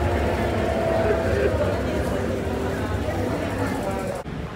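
A light rail train rumbles steadily past at close range, a continuous low roar with faint squeals, while a voice talks over it.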